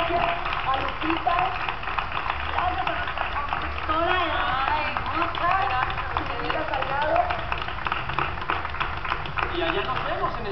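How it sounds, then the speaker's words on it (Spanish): Sustained audience applause for the Nuestra Belleza 2007 pageant contestants, with voices calling out over the steady clapping. "Pues un aplauso para todas."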